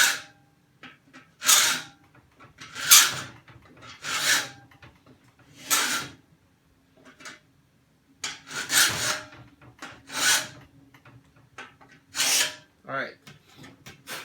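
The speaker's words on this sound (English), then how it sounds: "when I'm filing, I'm just filing forward, which is the cut stroke of the file" Metal being hand filed on forward cut strokes only, braced in place: a series of about ten distinct rasping strokes at an irregular pace, close and fairly loud, with short quiet gaps between them.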